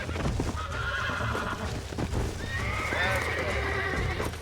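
In the Red Dead Redemption video game, a horse whinnies and snorts over clip-clopping hooves, while someone speaks loudly over the animal sounds.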